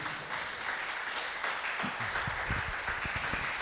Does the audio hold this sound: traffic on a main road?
no